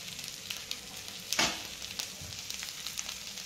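Fried rice with garam masala and mint leaves stirred in a hot pan, a soft continuous sizzle broken by one brief louder scrape of the spatula.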